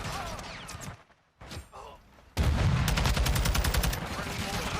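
Mortar strike explosions and rapid gunfire in a video game, a few sharp bursts first, then after a lull a loud dense barrage of rapid shots and blasts that keeps going to the end.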